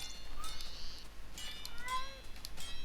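A cat in the video game Minecraft meows a few times in short, fairly faint calls spread across the moment, with no talk over them.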